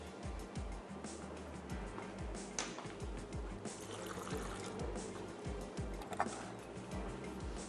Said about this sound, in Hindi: और इसमें मैं ऐड कर देती हूँ थोड़ा सा पानी।